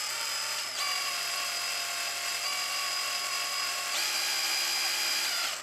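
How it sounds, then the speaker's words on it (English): Small electric paddle mixer stirring gritty Durabak deck paint in a container, a steady high-pitched whine with slight speed changes throughout. "I'm going to take my little mixer here and put it in here."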